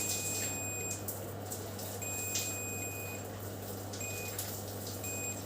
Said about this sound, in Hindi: यहाँ पे देखिए अभी भी हमारी बजर साउंड आ रही है।